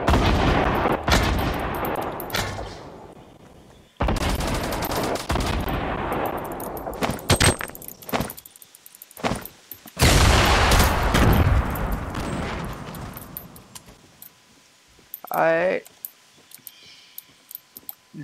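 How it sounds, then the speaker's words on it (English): Gunfire in the Fortnite video game: a series of loud shots and rapid bursts, some sharp and close, others rolling and echoing, spread across the clip with short quiet gaps between volleys. "Somebody shooting."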